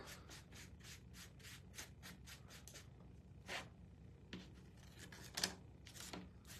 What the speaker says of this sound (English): We're just going to start distressing the pieces by just rubbing it on.